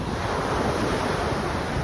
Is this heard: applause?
no